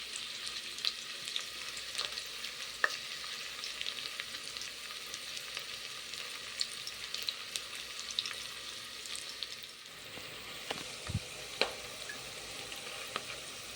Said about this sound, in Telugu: ఉల్లిపాయ ముక్కలు బాగా ఆయిల్లోకి వేసి ఫ్రై చేసుకొని ఉంచుకోండి.